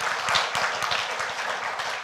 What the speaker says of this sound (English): Please, a big round of applause for our translators